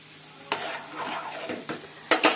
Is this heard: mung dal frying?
yes